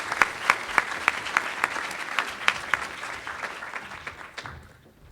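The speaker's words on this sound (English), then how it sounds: "Let's give a round of applause again to the Category A's." Audience applause for Category A award recipients at a training workshop general session, a dense steady patter of many hands with a few sharper claps standing out, gradually thinning and fading toward the end.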